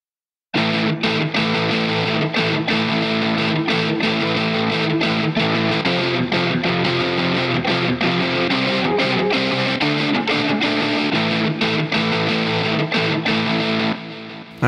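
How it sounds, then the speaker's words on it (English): An electric guitar distortion patch on the Elements modern scoring synth plays a dense, gritty rhythmic riff. Chugging, choppy chords run steadily and loudly for about fourteen seconds, with no talking. "let's try the electric guitar distortion."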